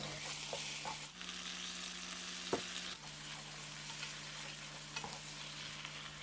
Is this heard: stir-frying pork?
yes